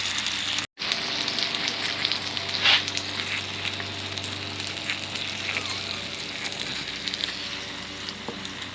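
Chinese sausage sizzling and frying in a pot, a steady bright crackle of hot oil with small pops and one brief dropout near the start.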